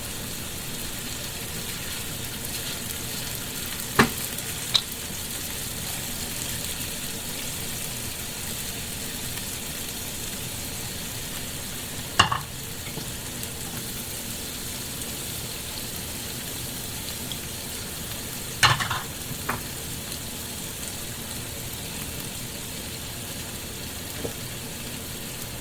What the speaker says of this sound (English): Now is a good time to add some of the stuff that I actually wanted to cook off a little bit. The mushrooms and the peppers and the onions.